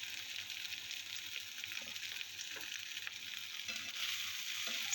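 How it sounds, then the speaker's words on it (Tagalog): Half-fried pork dropped back into a pan with onion and garlic sizzles steadily, a faint, even hiss with light crackles that swells slightly toward the end, no voices. "pwede natin ibalik po yung ating pina-fry, half-fry ah, na pork"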